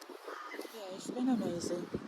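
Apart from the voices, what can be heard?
crows cawing in a tree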